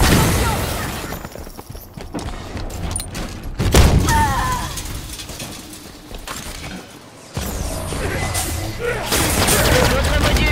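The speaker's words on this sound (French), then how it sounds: "Grenade, attention!" Halo 5 combat with a grenade blast and gunfire: a heavy booming explosion amid continuous dense weapon fire and battle noise, loud throughout, with game voices calling out over the action.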